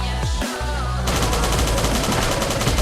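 Rapid gunfire from a gun in the survival video game Last Day On Earth, a dense, continuous burst of shots that starts abruptly after a short muffled lead-in and stays loud to the end.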